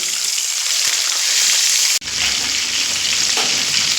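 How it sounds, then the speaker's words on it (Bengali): Salted chicken pieces for biryani fry in hot oil, giving a loud, steady, dense sizzle that drops out for an instant midway and then resumes at full strength. No one speaks. "চিকেনগুলো ভেজে নেব তবে এই চিকেন কিন্তু খুব বেশি সাবধানে কিন্তু চাপা দিয়ে দিয়েই কিন্তু ভাজতে হবে"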